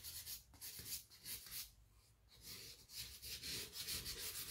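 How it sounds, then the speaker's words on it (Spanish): Fresh fine polishing sandpaper rubbed over wood, a steady close-up scratchy rasp in repeated back-and-forth strokes with brief pauses, no talk. "Vale, ahora ya tengo lija de pulir nueva."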